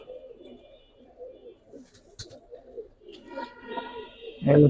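Pigeons, including Giribaj, Beji and high-flyer breeds, coo softly and repeatedly at close range. A louder, fuller coo comes near the end over faint background noise.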